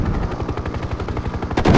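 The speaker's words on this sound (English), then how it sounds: "Firing now." A Mi-24 Hind helicopter's gun in the 1998 game Hind fires one continuous, rapid, evenly spaced burst, loud and close, heard alone with no talk.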